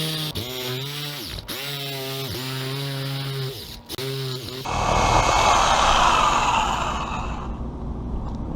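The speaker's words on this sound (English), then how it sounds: "use a reciprocating saw or a jigsaw to cut this out" Reciprocating saw or jigsaw cutting a hole through a roof, a loud buzzing motor whine that rises and falls in repeated strokes with short pauses, then shifts into a harsher, noisier grinding rasp that fades out near the end.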